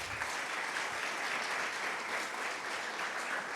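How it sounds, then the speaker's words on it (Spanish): A church congregation applauds visiting guests, many hands clapping in a steady, moderately quiet wash of sound that holds evenly throughout. "Vamos a dar un aplauso."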